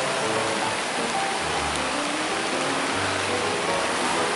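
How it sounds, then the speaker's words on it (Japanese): Rain patters steadily on a DD Hammocks DD Tarp 5x5, a dense, even hiss that fills the whole stretch without pause, close and fairly loud. "雨が降ってきたんでね"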